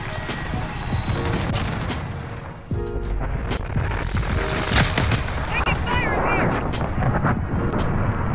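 Dense gunfire and heavy explosions from an airstrike killstreak in Modern Warfare, the player armed with a Grau 5.56, roll on almost without a break. Booms and bursts overlap throughout, with a brief lull near the middle and radio chatter mixed in.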